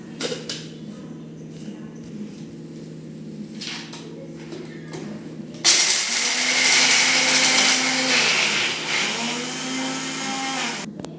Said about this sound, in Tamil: அடுத்தது ஒவ்வொன்றா நம்ம வந்து தனித்தனியா மிக்சியில் தான் அரைக்க போகிறோம்